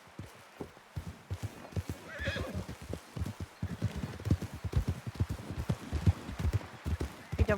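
A horse in a video game whinnies partway through while steady clip-clopping hooves keep a brisk, even rhythm throughout.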